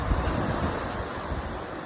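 Ocean waves and surf washing at the shore, a continuous broadband rush with low rumbling and wind noise on the microphone, near and fairly loud.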